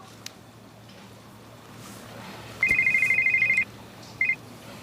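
A telephone rings faintly in a quiet room: one long electronic ring burst, then a short second burst after a pause.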